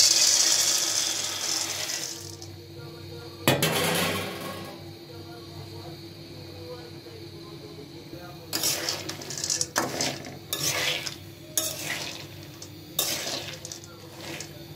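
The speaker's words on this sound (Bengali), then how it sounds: "এখন আমি দেখেন বাদামগুলো ভেজে নিই।" Peanuts fry in oil in a pan, a low hiss under loud bursts of scraping and rattling as a spatula stirs the nuts against the metal, with clusters of stirring noise separated by quieter stretches.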